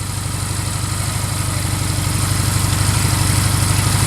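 A motorcycle engine on a rider's first bike runs in a steady, close idle, a continuous low throbbing rumble with no pauses.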